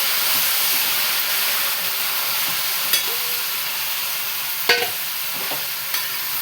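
Ivy gourd frying in a pan without coconut, a steady loud sizzle and hiss with a few sharp spatula scrapes and taps as it is stirred, close up and with no talking.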